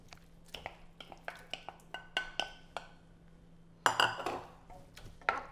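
Two pounds of shrimp being stirred into a pot of New Orleans shrimp creole, with a spoon scraping and clinking against the pot in irregular taps, plus a louder clatter near the end.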